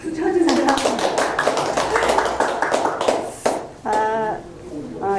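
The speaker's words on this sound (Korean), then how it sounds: "박수 쳐주세요" An audience at a community policy forum in Goyang claps steadily for several seconds under a speaking voice, and then the applause fades as a voice carries on alone.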